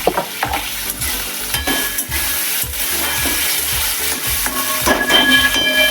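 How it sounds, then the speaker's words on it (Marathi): Salted potatoes fry in a pan with a loud, steady sizzle and hiss, and rhythmic stirring scrapes run through it from start to finish. "कमी गॅस करायचा, झाकण ठेवून 2 मिनिटे फ्राय होऊ द्यायचे बटाटे."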